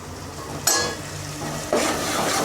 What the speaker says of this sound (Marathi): असा मसाला चांगला खरपूस भाजून द्यायचा.